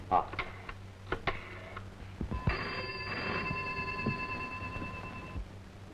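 A telephone rings in a Tamil film scene. A few soft clicks are followed by a steady electronic ring lasting about three seconds, fairly quiet, with faint voices and room noise around it.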